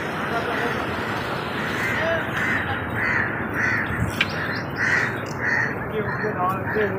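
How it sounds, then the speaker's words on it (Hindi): Crows caw repeatedly in a loud, rhythmic series over a busy outdoor background, with other birds chirping around them near a bridge in a small city, and someone speaking through the scene. "परिंदे काफ़ी ज़्यादा चहचहा रहे हैं"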